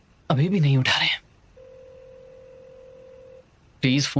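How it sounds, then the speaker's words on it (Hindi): A telephone rings unanswered after a call is dialed in a Hindi-dubbed Chinese drama: a single sustained ringback tone of about two seconds, framed by bursts of speech before and after. "प्लीज फोन उठाइए, फोन उठाइए ना।"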